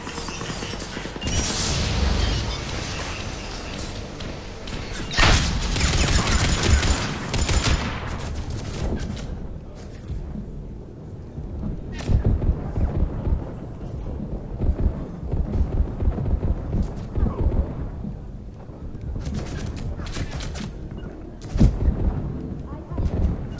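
Gunfire bursts from run-and-gun combat in the video game Mass Effect 3, loud repeated volleys and blasts in clusters across the stretch, with a voice talking over parts of it.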